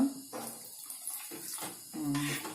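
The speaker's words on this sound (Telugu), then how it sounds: "ఇంకా రవ్వని నీళ్ళు పోస్తా" Water is poured into a cooking pan of semolina in a few short splashing bursts separated by brief pauses, close and moderately loud.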